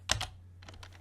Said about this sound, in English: So start typing D,